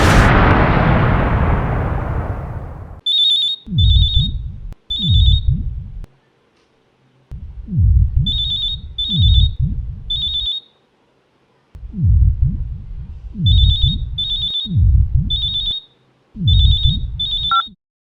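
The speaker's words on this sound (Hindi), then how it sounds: "जब फ़ोन की घंटी बजी" An old-style telephone bell in a horror drama rings in repeated double bursts, loud and alone, with pauses between rings after a sweeping whoosh at the start.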